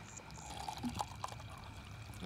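Water is poured into a drink in a short, faint, trickling pour that runs steadily for a couple of seconds.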